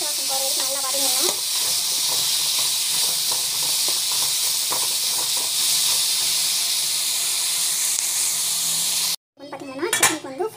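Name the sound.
sautéing mango and chicken sizzling in a pan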